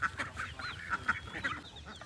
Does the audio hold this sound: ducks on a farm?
yes